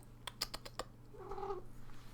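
A cat near a gaming setup gives a soft meow after a few sharp clicks, faint and close against a low steady hum.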